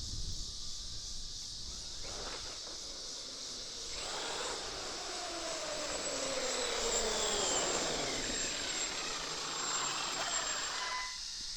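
Traxxas XMaxx RC truck fitted with Vitavon 1.5 mod gears runs nearby, a steady high-pitched whine and motor roar with gear noise that rises and swells over about eleven seconds, passing and turning with no talk.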